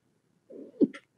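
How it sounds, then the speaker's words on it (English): A single short sneeze, preceded by a brief indrawn breath and ending in a sharp burst, sounds alone and close in a quiet room. "I'm going to sneeze"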